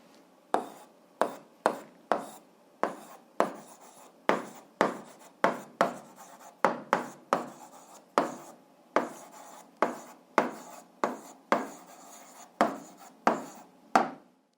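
Pen or marker writing out an algebra solution for an 8th-grade fraction exercise, heard as a steady series of short scratchy strokes, about twenty in a regular rhythm, close and fairly quiet with no talking.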